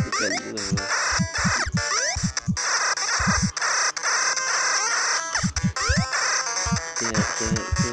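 Chicken crowing in the video game Adventure Island 3, repeated crowing calls over a dense, busy chiptune soundtrack with rapid bouncing blips, loud and continuous throughout.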